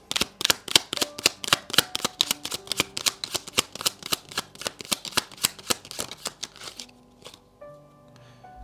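Oracle cards riffled in a fast, even run of crisp flapping snaps that carries for about seven seconds and then stops, followed by a few soft card handling sounds.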